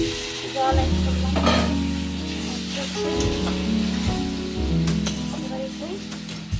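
Water poured into a pan of sizzling mushroom curry masala sets off a loud, continuous bubbling fry with stirring scrapes, close by and steady throughout.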